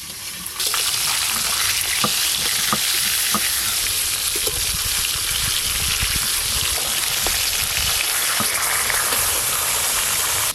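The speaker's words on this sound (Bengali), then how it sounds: "তেল খুব ভালো করে গরম হয়ে গেছে, মাছগুলো বেশ লাল লাল করে ভালো করে ভাজবো।" Pieces of silver carp frying in very hot oil, a loud, dense, continuous sizzle and crackle up close, with occasional sharper spits and light stirring, no voices.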